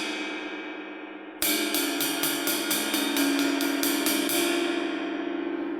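A Dream Dark Matter Flat Earth ride cymbal struck on its flat spot: after a sustained ring, a loud, close run of about eight quick hits builds a bright, wobbling wash that holds to the end.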